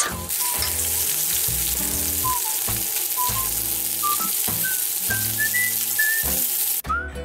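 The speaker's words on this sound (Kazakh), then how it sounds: "табаға май құйып қыздырып аламыз да тауық етін қуырамыз" Chicken sizzles and crackles in hot oil in a pan, with bursts of clattering stirring and faint high whistling tones throughout.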